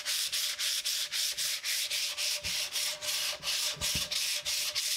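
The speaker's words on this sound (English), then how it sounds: "I tried to sand it down a little bit." Clear-coated wooden sign hand-sanded with 180-grit paper: a steady run of rhythmic back-and-forth rasping strokes, close and even, about three per second, with no voices.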